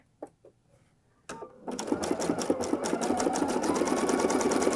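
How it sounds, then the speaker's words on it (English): Sewing machine zigzag stitching fold over elastic binding onto fabric, a couple of soft clicks, then a rapid steady rhythmic chatter of needle strokes building and running continuously, close and loud. "And you want your zigzag stitch to stay on your fabric."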